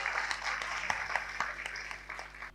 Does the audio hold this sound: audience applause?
yes